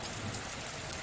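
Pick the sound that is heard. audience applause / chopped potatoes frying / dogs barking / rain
rain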